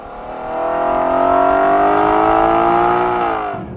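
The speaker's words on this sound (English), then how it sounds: "you mash your foot down or you flick a switch and this thing becomes an absolute muscle car, rearing up on its rear haunches and belting out this sound" Muscle car engine revving hard through a loud, tuneful exhaust, a single sustained rising roar that swells in, holds for a few seconds and drops away at the end.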